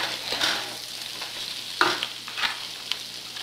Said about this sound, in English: We're going to add our peppers and our green beans to the pot. Get those all mixed up, coated up with the coconut oil and the onion.